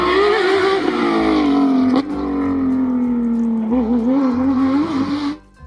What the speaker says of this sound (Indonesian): Wow, lihat teman-teman, yang ini mobil balap.